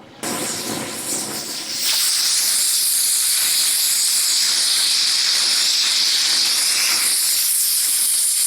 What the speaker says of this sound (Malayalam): അങ്ങനെ ഒരു വിസിൽ വന്നിട്ടുണ്ട് നമ്മൾ തീ ഓഫ് ചെയ്യണം കേട്ടോ